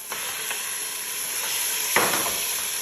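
Meat sizzles in a pan with ginger and garlic, a steady loud hiss and crackle with occasional stirring scrapes.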